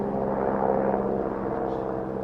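Helicopters flying overhead outdoors, heard as a steady, loud rotor and engine drone that fills the whole moment without letting up, with no voices over it.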